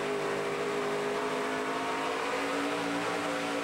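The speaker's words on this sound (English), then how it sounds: "Listen to him pedal that throttle." A NASCAR Camping World Truck Series race truck at Rockingham roars under a pedaled throttle, a loud sustained engine drone with shifting pitch, steady and continuous throughout.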